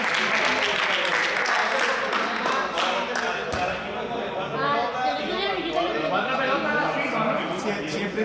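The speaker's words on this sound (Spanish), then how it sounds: "Un aplauso, un aplauso." Group applause from a cluster of people, a brisk, dense clapping that runs for several seconds, close, with voices chattering over and after it.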